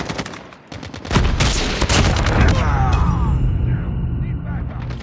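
Gunfire and a grenade blast from the Call of Duty Mobile video game, with dense, loud bursts of shots and a heavy explosion over continuous battle noise, alongside voiced in-game callouts.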